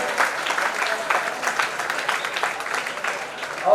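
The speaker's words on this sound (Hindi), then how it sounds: "जोरदार ताली बजाते रहिए" Audience applause fills a medal award ceremony for youth volunteers, dense steady clapping from a crowd sustained for several seconds, fairly loud throughout with no talk heard.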